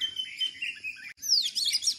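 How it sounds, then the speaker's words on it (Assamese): Several small birds chirp and tweet in the early morning, bright rapid calls running continuously through the two seconds with a brief pause midway, close and clear, with no talking. "আপোনালোকে মোৰ বেকগ্ৰাউণ্ডত চৰাই মাতবিলাক শুনিছেনে"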